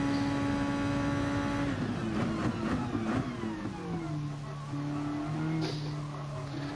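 A racing car engine laps the Monza track in a video game, its steady high whine dropping and climbing through gear shifts and braking into the first turns, loud and continuous throughout.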